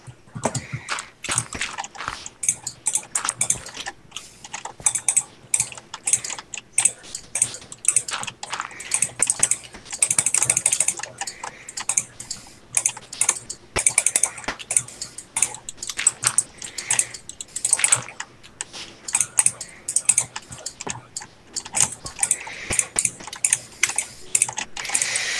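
Rapid, continuous keyboard typing and clicking during a Minecraft survival gaming session, dense bursts of close keystrokes throughout with no talk.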